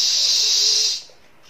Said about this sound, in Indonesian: ular